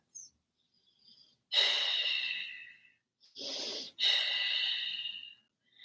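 Deep, audible breaths during a seated yoga twist: a long exhale, a short inhale, then another long exhale, close to the microphone with no talking.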